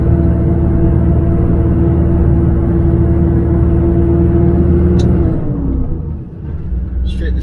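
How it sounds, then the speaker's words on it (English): A truck engine laboring up a hill in low fourth gear, steady loud droning rumble with a held engine tone that eases off near the end, a few faint clicks after. "Just going to stay in the low 4th gear, let's get up this hill"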